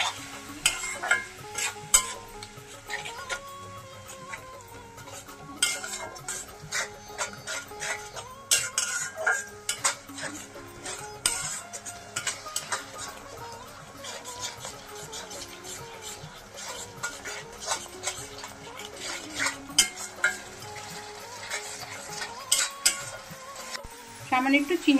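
Spice paste of chili powder, turmeric and a splash of water being stir-fried for a Bengali chicken liver curry, with steady scraping of a spatula against the pan and faint sizzling throughout.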